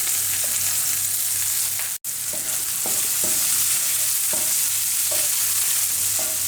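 Sausage pieces fry with curry leaves in a pan, a loud, steady sizzle with repeated light scrapes of a stirring spoon and one abrupt momentary dropout.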